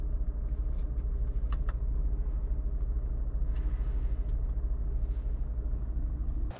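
Second-hand VW Passat on a test drive, heard from inside as a loud, steady low engine and road rumble with a few light clicks and rattles over it, ending abruptly.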